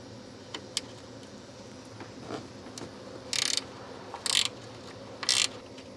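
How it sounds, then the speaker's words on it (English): An 8mm wrench ratchets on fuel rail mounting bolts of a 2001 Ford F-series engine, with faint clicks and three short bursts of rapid ratcheting close to the mic, no talking. "We will be removing these four bolts with an 8mm wrench."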